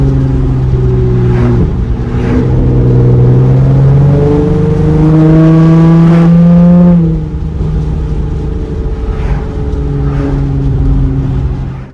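Acura TL V6 engine revving and accelerating through rising pitch sweeps, shifting gears around midway and climbing again, loud and close with no talking.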